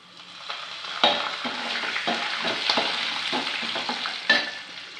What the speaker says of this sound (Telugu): నువ్వులు వేస్తున్నానండి.